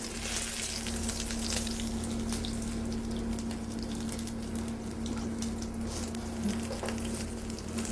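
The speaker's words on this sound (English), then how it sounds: "we've got just a little bit of vegetable oil in the pan here, and we're going to go ahead and fry them off" Arancini frying in a shallow layer of vegetable oil in a saute pan, a steady close crackling sizzle with scattered pops throughout and no talking.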